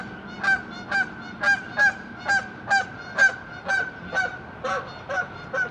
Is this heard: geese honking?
yes